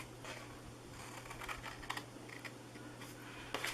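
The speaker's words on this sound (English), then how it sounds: "And then cut up all the sides on both sides." Scissors cut along the sides of a craft box made for a Dollar Tree Christmas test tube holder, giving a string of faint, close clicks and snips with short pauses between them.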